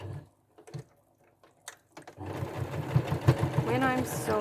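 A home sewing machine stitches the final seam of a quilt block, starting with a few short bursts and then running steadily for a couple of seconds at close range, with little else audible.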